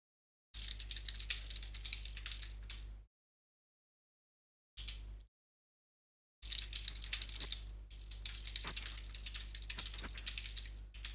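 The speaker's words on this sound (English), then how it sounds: "I can hear somebody writing on his keyboard" Someone typing on a computer keyboard, heard over an open virtual air traffic control radio channel at Zurich apron: rapid clattering keystrokes in a few bursts separated by short silences.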